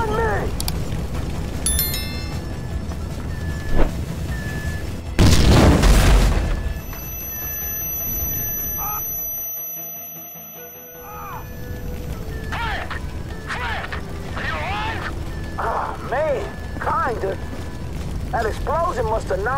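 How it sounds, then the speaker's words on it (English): Loud explosion in the video game GTA 5 during a building raid, a sudden heavy blast burst followed by rumbling, creaking collapse and mechanical noise, with voices talking around it. "That explosion must have knocked me out"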